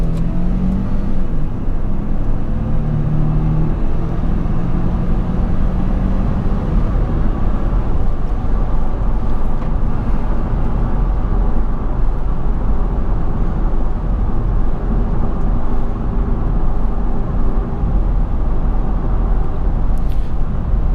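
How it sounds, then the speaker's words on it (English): Steady low road noise and engine drone fill the cabin of a 2017 Ford Expedition Limited while driving, a continuous broadband rumble with no talking. "You feel a lot more, or you hear a lot more road noise."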